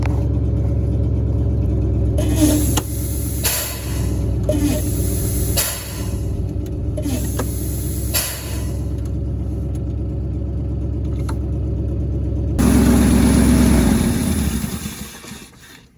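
A 1963 International Loadstar 1800 truck engine, unrun for over 20 years, cranks in several bursts and then catches and idles with a deep, steady rumble, rising briefly near the end before fading.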